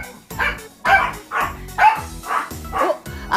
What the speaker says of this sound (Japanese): ジュエルはね、ダイヤが吠えれば、その後ろに、金魚の糞のように後ろに、向かって、後ろでこう吠えてるだけなんだけどね。